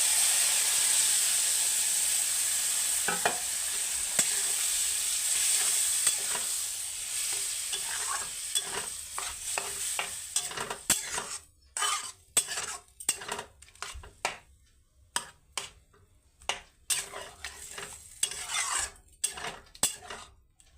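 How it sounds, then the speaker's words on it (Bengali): Dal is stir-fried with spices in a pan, a steady sizzle at first giving way to rhythmic metal spatula scrapes and clanks against the pan, close and clear with no voices. "কষিয়ে এখন ডালটা দিয়ে দেবো"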